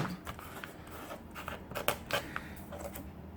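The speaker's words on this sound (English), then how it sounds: "This paper trimmer is going to drive me nuts." A paper trimmer cuts paper for a junk journal with a series of quiet, quick crisp slicing and clicking sounds, close but faint, with no talk.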